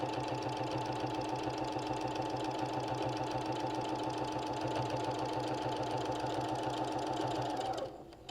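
A sewing machine stitches steadily down a seam of an embroidered wall hanging, giving a continuous, even mechanical hum for nearly eight seconds before it slows and stops.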